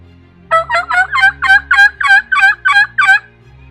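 Wild turkey toms gobble in the woods, about ten rapid rattling gobbles in an unbroken run, loud and fairly close, with a low steady hum underneath.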